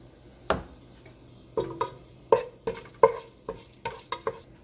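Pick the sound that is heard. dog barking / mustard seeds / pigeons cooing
mustard seeds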